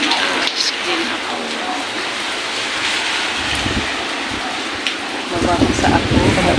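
Heavy rain pours and strong wind gusts during Typhoon Maymay, a continuous roaring wash that swells louder near the end, with voices talking over it.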